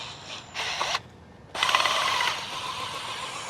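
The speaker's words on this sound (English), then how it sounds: "I'll show you up close how I like to do the holes with this auger" A power auger bores a planting hole in a garden bed, giving bursts of grinding, ratcheting mechanical noise that stop briefly and then restart louder and sustained, close by.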